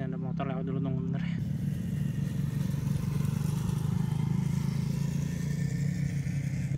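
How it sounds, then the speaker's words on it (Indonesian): A motorcycle passes by nearby, a loud, steady engine roar that swells in quickly and fills the whole moment with a dense rumble and clatter. "Ini ada motor lewat dulu, tunggu bener."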